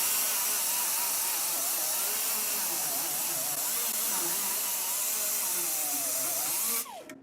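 A small, worn angle grinder with a sanding disc works the metal edges of a floor panel being welded into a 1968 Ford F250 diesel, a loud continuous hiss with whining pitch shifts that winds down at the end.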